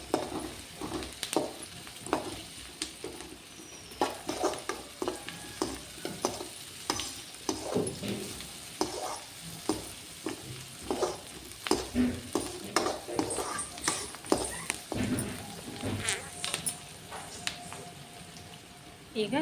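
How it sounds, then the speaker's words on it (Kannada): Finely chopped ginger sizzles in hot oil in a pan for egg fried rice while a spatula stirs and scrapes it in irregular strokes, close and moderately loud, with a voice speaking over it. "ಸಣ್ಣಗೆ ಹೆಚ್ಚಿಟ್ಟುಕೊಂಡಿರುವ ಶುಂಠಿ, ಇದನ್ನ ಸ್ವಲ್ಪ ಮಿಕ್ಸ್ ಮಾಡ್ಕೊಳ್ಳಿ"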